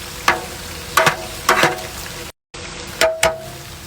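A grouper dish cooking in a pot with onions and oil, heard as a steady sizzling hiss broken by several louder bursts of stirring and spattering, close up and with no talking.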